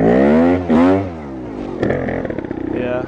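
A Vertigo Nitro 300 trials motorcycle ridden in second gear, its engine revving up and dropping back in short bursts close by, with rattly mechanical clatter toward the end.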